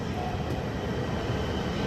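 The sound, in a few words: high-speed train (Hexie) running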